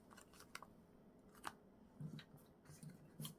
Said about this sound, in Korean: 가위를 들고 굵은색 부분을 잘라줍니다